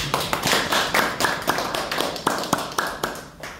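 A seated audience in a literature class lecture claps in a brisk, fairly even rhythm of distinct sharp hand claps. It is moderately loud and keeps going for a few seconds.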